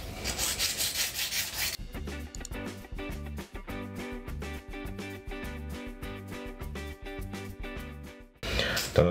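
A nail file rasps across gel nails in steady, close rubbing strokes at the start and again at the end. A tonal, rhythmic backing that sounds like music takes over in between and masks the filing.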